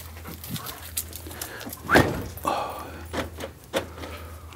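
A dog near a wine cellar gives soft whimpers and panting breaths, along with a sharper yelp in the middle and a few scuffling knocks against a low background hum.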